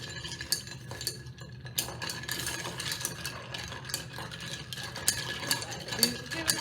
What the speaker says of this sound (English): so then you stir that for 30 seconds